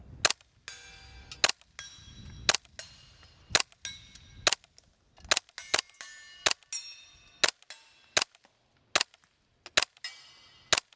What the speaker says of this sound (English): Let's just do some more shooting.